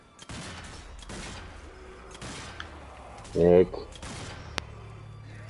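A few separate gunshots in the zombie shooter game Zombie Army 4, sharp single cracks spaced apart over quiet background, with people talking in German between them.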